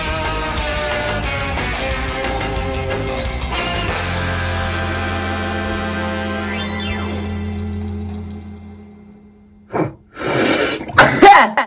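Several sharp sneezes burst out in quick succession near the end, loud and close, after a stretch of sustained tonal background that fades away.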